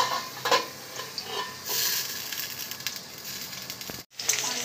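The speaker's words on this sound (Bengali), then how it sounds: "আলুগুলো দিয়ে দিয়েছি এবার উল্টে পাল্টে ঢাকা দিয়ে ভালো করে লাল লাল করে ভেজে নেব" Half-boiled potatoes fry in a pan being turned and covered, giving a steady close hiss of sizzling oil broken by scraping stir strokes, with a brief cut to silence near the end.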